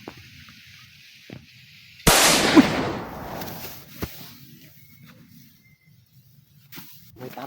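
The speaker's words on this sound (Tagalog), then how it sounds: "May putok, tol." A single sharp crack of a gunshot rings out, fairly loud with a decaying echo, followed by quiet background and a faint voice.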